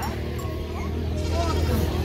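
Goats bleat at a busy goat market in Cốc Ly, Vietnam, with calls rising over a constant crowded background of people talking and market bustle.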